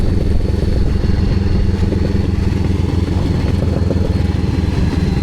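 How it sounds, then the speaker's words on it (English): Motorcycle with an aftermarket Austin Racing exhaust idling at low RPM, a loud, steady, deep burbling rumble with a fast even pulse, close up and alone. "this exhaust up like a low RPM sounds so good"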